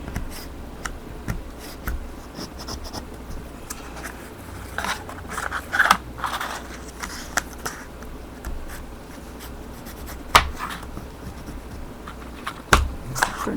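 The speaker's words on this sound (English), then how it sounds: "just kind of scrunch it back up and just go over it with your bone folder" A bone folder rubs and scrapes over a folded paper card for a shadow box card, close and quiet, with soft scratchy strokes and a few sharper ticks and taps spread across a faint background.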